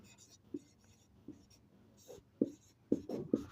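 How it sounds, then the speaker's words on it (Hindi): Pen scratching across paper while a maths problem is written out by hand, a series of soft strokes and taps building to sharper, louder scratches, close and quiet with faint whispery background. "अब लिखते हैं प्रश्न से।"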